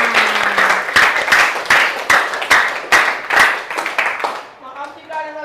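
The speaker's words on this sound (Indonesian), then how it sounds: "tepuk tangan yang meriah buat temennya" Classmates clap for a student in a classroom, loud and close with distinct uneven bursts of hands, fading near the end as a brief voice and a tonal sound come in.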